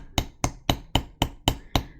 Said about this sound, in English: I'm going to hammer a little more